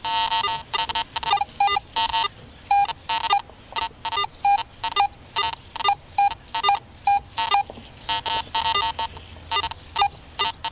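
Garrett AT Pro metal detector with a 5x8 coil giving junky iron target signals: choppy, clipped electronic beeps in an irregular stuttering rhythm, fairly loud and close, sounding alone without talk.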